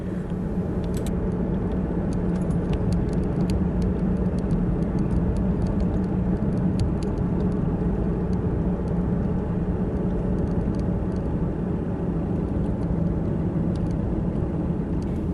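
Steady interior road noise from a car driving along Route 8 North in Butler County, Pennsylvania, a continuous low engine and tyre rumble with no talk over it.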